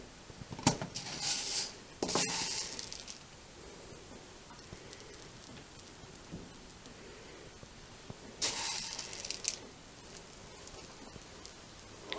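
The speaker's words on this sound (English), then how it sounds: "I'm going to take some unswelled ones and just kind of sprinkle them here and there" Dry water beads scattered by hand onto potting soil in an indoor garden pot give short bursts of light pattering rustle, with quiet gaps between the sprinkles.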